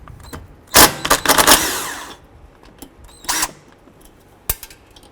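A 10mm socket wrench loosens the brake line clamp on a 2012-17 Toyota Camry, a brief burst of quick ratcheting clicks followed by a few scattered metallic clicks and knocks, close and alone.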